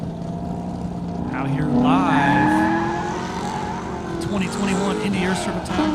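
A Honda CBR 1000 RR motorcycle and a black Corvette Z06 drag race down an airport airstrip, engines rising and sweeping loudly in pitch as they pass, with a commentator talking over the roar.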